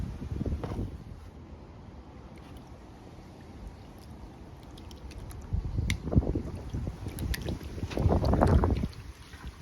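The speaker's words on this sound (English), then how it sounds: "Oh, it's windy." Gusts of wind buffet the microphone outdoors while panning fine material for gold at a reef, with rumbling bursts near the start and again around the middle and end over a steady low background.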